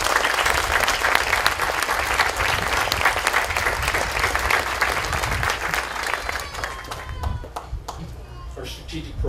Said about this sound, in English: Let's give our city employees a big round of applause.